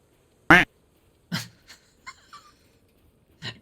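A duck in the video game A Letter to the Future quacks four or five times in short, separate bursts: a loud first quack, then fainter ones with a final clear call, spaced over a few seconds.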